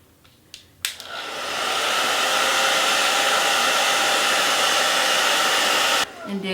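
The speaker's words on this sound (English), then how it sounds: "you're blow drying it" A hair dryer blow-dries a lace front wig, starting with a couple of clicks and then running as a steady, loud, close whooshing roar for several seconds before abruptly switching off.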